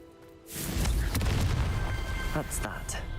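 A Confringo fire spell erupts in a video game, a sudden loud booming blast that swells and rumbles for a few seconds with crackling bursts layered through the roar.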